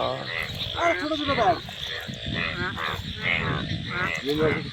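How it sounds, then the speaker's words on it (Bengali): Frogs croak over a stormy night on a fishing outing, a close chorus of rapid rattling pulses repeating steadily as people talk over them. "খালি ব্যাঙের আওয়াজ"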